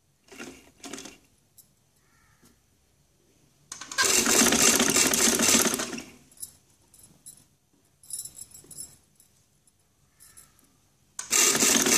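A sewing machine stitches a placket neckline in several bursts of fast, whirring, rattling stitching, the longest lasting about two seconds, with quiet pauses between them.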